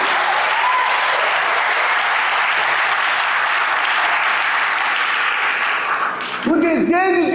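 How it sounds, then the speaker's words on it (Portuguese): A church audience applauds loudly and steadily for about six seconds, a dense sustained wash of clapping, before a voice breaks in at the end. "Vamos aplaudir esse Deus."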